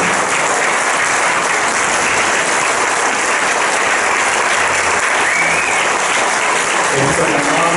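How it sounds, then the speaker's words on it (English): Loud, dense applause from the audience at a town of Huntington candidates' event, sustained and close for several seconds with a few voices mixed in near the end. "I would very much like everybody to give our current town clerk, Joanne Ray, a round of applause"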